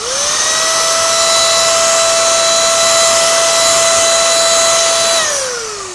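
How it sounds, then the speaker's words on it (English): A small electric blower pushing white colour into a marble pattern on a strawberry lemon almond entremet, a loud, steady whining hum held for about five seconds before its pitch drops as it winds down. "Use your blower."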